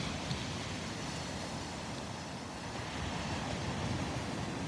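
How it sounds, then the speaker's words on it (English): Gentle ocean waves roll across a sandbar at Delnor-Wiggins beach on an outgoing tide, a continuous soft surf wash mixed with light wind noise, fairly distant and steady, with no voices. "had a nice little series of waves roll across the sandbar there"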